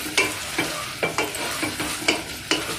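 Onions, boiled potato, dried and green chilies and curry leaves are stirred in a pan, with a soft sizzle under several evenly spaced scraping strokes of the spoon.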